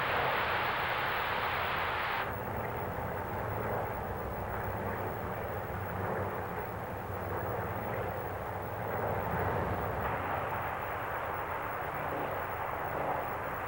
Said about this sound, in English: The fighter groups form behind their lead ships in 9 or 11 plane waves.